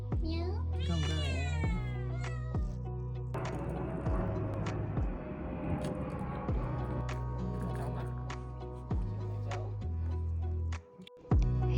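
A cat on Jeju Island gives a clear rising meow near the start, followed by quieter sounds under a steady tonal background hum.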